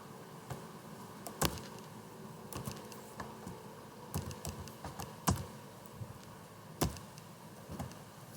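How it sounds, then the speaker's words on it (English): Keystrokes on a computer keyboard while entering text into a Word document, coming as scattered irregular clicks with short bursts and pauses, close by and fairly quiet over a steady room hiss. "Let me type so that you can see what I'm saying."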